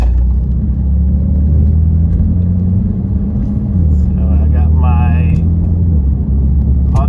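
A BMW car on a road test drive, a loud steady low engine and road rumble from inside the cabin, with a brief higher tone near the end.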